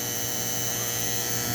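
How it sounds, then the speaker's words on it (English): A Westclox Big Ben S10-D mechanical alarm clock rings with a loud, continuous, rapid buzzing bell, heard close and alone. "There's your alarm."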